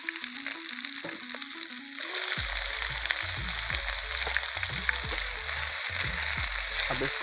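Onions frying in a pan for Kadaknath chicken: a short stretch of quiet stirring and a brief voice, then a loud, steady crackling sizzle that fills the rest with occasional scraping clatter.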